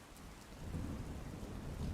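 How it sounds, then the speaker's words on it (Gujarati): Heavy monsoon rain pours during a storm in Junagadh, with steady dense hiss and low rumbling thunder swelling through, continuous and fairly distant, with no voices. "જૂનાગઢમાં આજે 7 ઇંચ વરસાદ વરસ્યો છે"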